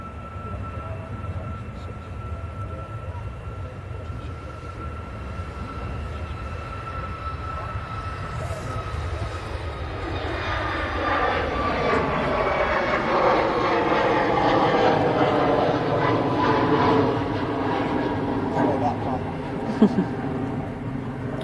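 A Jet2 airliner bound for Antalya takes off from Manchester Airport, its engine roar swelling from a distant rumble into a loud, sustained rush with a sweeping whine. Voices talk over it.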